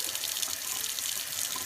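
Water running steadily from a kitchen tap during kefir making, a continuous close hiss of flowing water with no talk.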